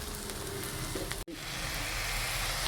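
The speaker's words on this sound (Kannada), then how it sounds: "ಹುರಿದು ಫ್ರೈ ಮಾಡಿ ಇಟ್ಕೊಂಡಿರೋ ಬೆಂಡೆಕಾಯಿ ಹಾಕ್ತಿದ್ದೀನಿ" Fried okra tumbles into a hot pan of oil with a steady, close sizzle that briefly cuts out before resuming strongly, for a Karnataka bendekayi palya.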